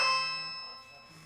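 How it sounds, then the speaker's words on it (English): A house doorbell chimes once, a clear bright ring that decays slowly into quiet with a faint low hum beneath. "if you can't tell, that's our doorbell."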